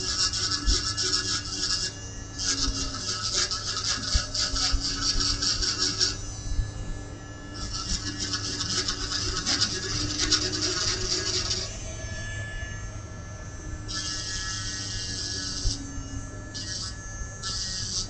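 A power drill fitted with a fresh bit grinds and rasps into a Halloween pumpkin, coming in sustained bursts with short pauses between them, close and fairly loud with no voices.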